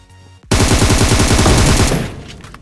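Loud burst of automatic gunfire in the battle royale game BGMI, a rapid stream of shots for about a second and a half that starts abruptly and fades out.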